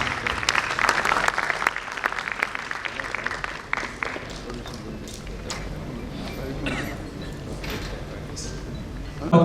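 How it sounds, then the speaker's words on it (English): Applause from a medical conference audience at AIIMS Kalyani, crisp individual claps building into a lively round before thinning into sparse scattered claps over room murmur and shuffling. "Please have a huge round of applause."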